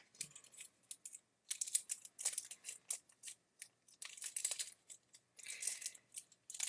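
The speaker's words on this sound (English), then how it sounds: "I'm going to cut it because I can't get my finger in there" Scissors cutting open a card-making kit package: a quiet series of crisp snips and crinkly plastic rustles in short bursts with gaps between, close up and alone.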